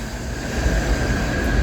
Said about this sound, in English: The trains are going over me.